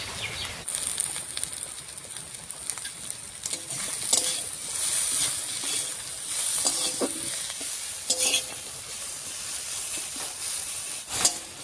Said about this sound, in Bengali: লবণ দেওয়ায় থানকুনি পাতার মধ্যে যে জল উঠেছিল সেই জলটা আস্তে আস্তে শুকিয়ে নিয়েছি।